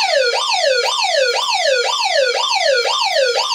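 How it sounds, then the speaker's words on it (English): Siren mode of an ACDelco emergency radio: a loud, close electronic wail that sweeps up and drops again in a fast repeating cycle, about twice a second, shrill and unbroken, with no voices. "that is pretty loud, especially with the the dBs of a siren, which will screech out"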